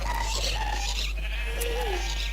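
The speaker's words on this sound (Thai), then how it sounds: "ให้เมดถือเชียร์แล้วก็ ไปตัดขนแกะได้อย่างนี้" Several sheep bleating in Minecraft while being sheared, short wavering cries repeated over a constant loud low hum, no talking.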